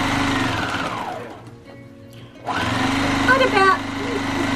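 A sewing machine stitches a fabric tote bag, a close whirring run that slows and stops briefly midway, then starts again at a faster pace, with a voice talking over part of it.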